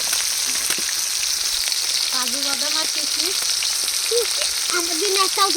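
Cumin seeds, onion, garlic and green chili sizzle steadily in hot oil in a pan for fried rice, with a continuous crackling hiss and a faint voice in the background.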